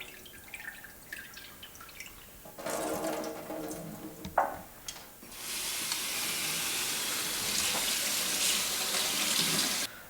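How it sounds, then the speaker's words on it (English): Brined turkey rinsed under a running kitchen tap, water splashing and dripping at first, then a steady, loud rush of tap water pouring over the bird for several seconds. "now we're just going to rinse this turkey, rinse all the brine off"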